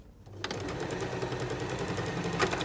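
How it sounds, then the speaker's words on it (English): A sewing machine running a straight stitch along the bottom of a reusable drawstring produce bag, with a close, continuous mechanical whir that starts after a brief quiet moment and holds steady. "turn your machine back to a straight stitch before then"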